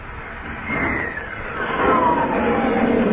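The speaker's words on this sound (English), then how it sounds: "an F-89 Scorpion jet, an airplane that travels faster than the speed of sound" An F-89 Scorpion jet aircraft roars past, its broad engine rumble swelling and growing louder over a few seconds.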